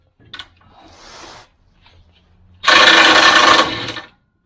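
An impact wrench bursts on a Land Cruiser 80 Series control arm bolt, giving a loud rattling hammer of just over a second, preceded by softer shuffling and short mechanical noises up close.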